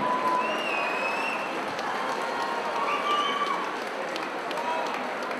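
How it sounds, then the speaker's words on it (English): A crowd at a boxing fight night applauds and cheers after a bout in a steady wash of clapping, with voices calling out over it throughout. "round of applause for both fighters this evening"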